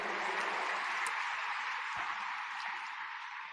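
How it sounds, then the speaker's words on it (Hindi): Audience clapping at a public launch event for a water campaign in India, a steady wash of applause that fills the whole clip at moderate distance with no talk over it. "मैं चाहता हूं इनके अभिनंदन में भी तालियां बजाएं"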